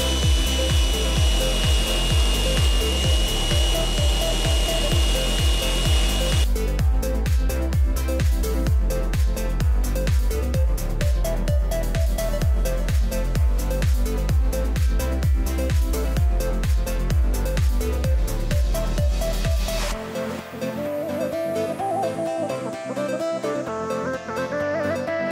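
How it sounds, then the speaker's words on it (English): Angle grinder shaping the handle of a homemade machete made from a lawn mower blade, a steady rhythmic grinding and rasping that runs loud and continuous, changing tone partway through and easing near the end. "The next step is to shape the handle with the angle grinder."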